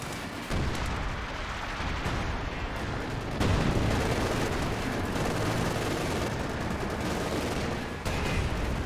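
Dense, continuous machine gun and artillery fire rumbles through a Company of Heroes battle between OKW and USF forces, a steady wall of rapid shots and booms with sharp bursts throughout and no talking.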